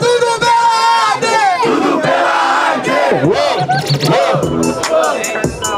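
A crowd at a hip hop rap battle answers the MC's call in unison. Loud, close group chanting and shouting rises and falls in a rhythmic call-and-response.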